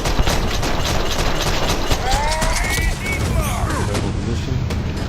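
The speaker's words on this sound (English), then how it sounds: "Gun is like a pea shooter." Gunfire in the video game Starfield: a dense burst of rapid, loud, close shots crackling over rumbling booms, with whistling sci-fi effects sweeping through the middle.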